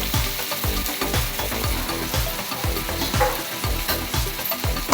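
Onions frying in hot oil with cumin and curry leaves in a pan for mushroom curry, a dense continuous sizzle with rhythmic stirring scrapes, close and loud, with no voices.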